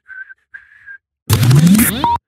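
A person whistles, imitating whistles: two short, steady whistled tones, then a loud rising swoop with harsh breathy noise ending in a brief pitched whistle, all close to the microphone.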